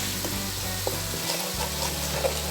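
Rice stirred in a hot pan with salt and spices, a steady sizzling fry with soft scraping strokes of the spoon, close and continuous with no talking.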